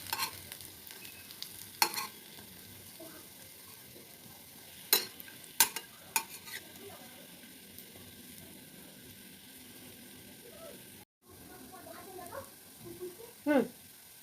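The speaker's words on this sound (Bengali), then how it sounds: "কি সুন্দর বড়াগুলো ভাজা হয়ে গেছে, লাল লাল হয়ে এসেছে।" Bora fritters fry in a pan over a low gas flame with a soft, continuous sizzle, punctuated by a few sharp clinks and scrapes of stirring and turning.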